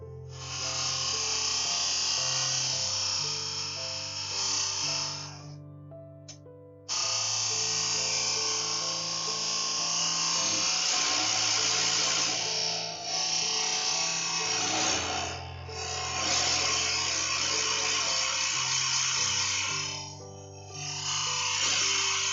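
A drill boring into wood on a lathe in a woodturning workshop, a loud steady whine running continuously with two brief pauses.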